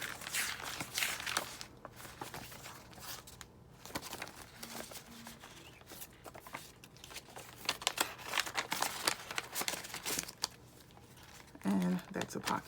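Lined paper being handled in a junk journal, with soft crinkles, rustles and light taps scattered unevenly throughout, close and fairly quiet.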